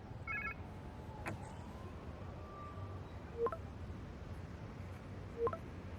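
A phone ringing in the video game Marvel's Spider-Man 2, heard as two short, faint chirps a couple of seconds apart over a low rumbling background.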